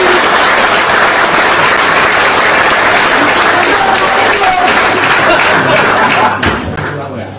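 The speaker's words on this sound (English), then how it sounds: "We will give a clap, but we remember that it might be rubbish, so we'll give this preemptive clap" A large audience claps loudly at an awards night, a thick continuous roar of many hands close by that holds steady for several seconds, then thins and fades out near the end.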